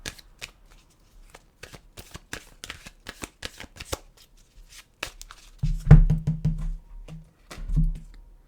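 Tarot cards shuffle in quick, close riffles and slaps for about five seconds, then a few dull handling thumps and soft rustles follow at a lower level.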